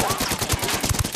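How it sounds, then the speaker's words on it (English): Gunfire in the video game Ghost Recon Wildlands: a quick run of punchy, evenly spaced shots, several heavier thumps standing out, over a busy game backdrop with no talking. "Opening fire."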